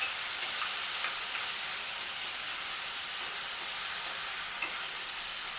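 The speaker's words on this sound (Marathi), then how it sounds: "आपण टोमॅटो चिरलेला आहे तो घालूया." Chopped tomatoes sautéing in a pan for paneer tikka masala, a steady broad frying sizzle and hiss that stays even throughout, close and alone, with a faint clink or two.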